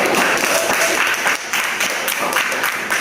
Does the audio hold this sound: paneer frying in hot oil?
no